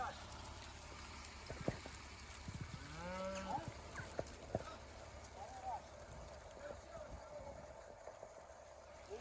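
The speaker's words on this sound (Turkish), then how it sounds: "Şu anda inek sürüsü geliyor." A herd of cattle returns to Şahnalar village, with occasional moos and scattered hoof clatter drifting in from a distance through quiet rural ambience.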